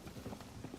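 Horse hooves clip-clop in a Nintendo Switch 2 video game, a quick run of soft, evenly spaced hoofbeats over a short stretch, close and steady with a faint murmur of voice underneath.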